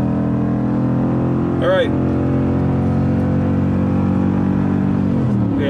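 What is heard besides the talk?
2015 GMC Sierra Denali V8 truck engine while towing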